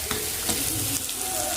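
Chicken and onions frying in a pan, with a close, constant sizzle and light stirring scrapes at a steady level, and no one talking.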